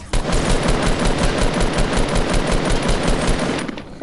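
Rapid automatic gunfire during a video game squad match, a loud, close, sustained burst of evenly spaced shots lasting several seconds before cutting off.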